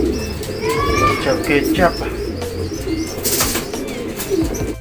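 Pigeons coo and call during a pigeon racing derby, soft repeated cooing up close mixed with a few chirps, while a person speaks briefly over them.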